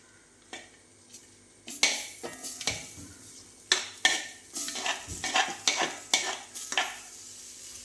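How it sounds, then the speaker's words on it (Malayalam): A spoon scrapes and clinks through green rambutan pickle in a pan, a series of irregular sharp strokes against metal over a soft sizzle, close and fairly quiet, with no talking. "നമുക്കിനി നന്നായിട്ട് ഇതൊന്ന് ഇളക്കി കൊടുക്കും"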